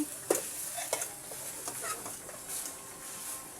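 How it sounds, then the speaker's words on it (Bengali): Jute leaves stir-fry in a pan, giving a soft, quiet sizzle broken by a few light scraping stirs. "আমি একটু পরে পরে এই নেড়ে চিড়ে দিচ্ছি না হলে হয়তো পাট পাতাগুলো তুলে যাবে"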